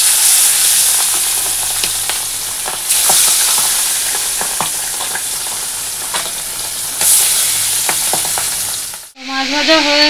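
Potatoes and beans fry in hot oil after fish, a loud continuous sizzle with stirring scrapes and clicks, swelling a few times before cutting off near the end.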